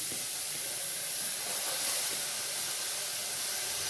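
A pressure cooker with bitter gourd inside releases a steady, continuous hiss of steam that stays even and fairly close, with no talking.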